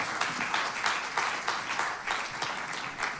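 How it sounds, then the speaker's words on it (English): Audience applause in a church service, clapping in a loose pulsing rhythm with distinct individual claps audible, moderately close and fairly quiet. "Should we give them a round of applause as they join us?"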